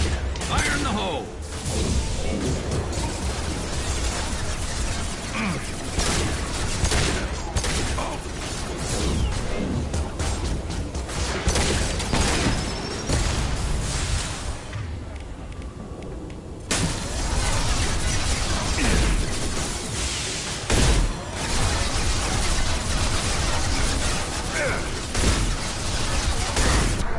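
In Mass Effect combat, a grenade is tossed and goes off amid chaotic fighting, with whooshes, crashes and bursts mixed under frequent shouted voices and a brief lull before the noise resumes.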